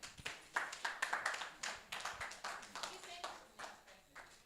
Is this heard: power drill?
no